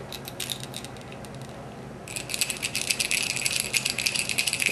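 An African grey parrot shakes a small bell, giving a thin jingling rattle that comes in brief bursts at first, then turns into louder, continuous shaking after a short pause. It sounds close, with no talking.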